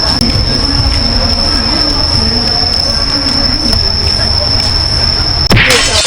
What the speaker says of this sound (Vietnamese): Thỉnh thoảng, có những chiếc xe mô phỏng tàu hỏa chạy ngang qua.